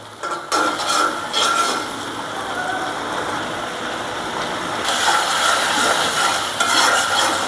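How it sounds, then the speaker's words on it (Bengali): Spice paste is cooked down with a little water in a pan for a hilsa fish and taro curry, giving a steady close sizzle with intermittent scraping and stirring throughout. "একটু পানি দিয়ে এই মশলাটা ভালোভাবে কষাই নেব।"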